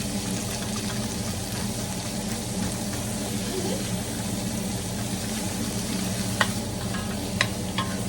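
Vegetables stir-fry in a hot pan at home, a steady close sizzle with light scraping and a couple of sharp clicks of a utensil against the pan near the end.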